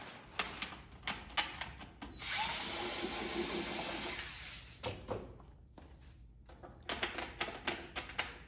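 Power screwdriver backing out screws from the cap of a Minn Kota trolling motor: bursts of clicking and ratcheting, then a sustained whirring run of a few seconds, then more clatter and clicks, close but fairly quiet, no talk.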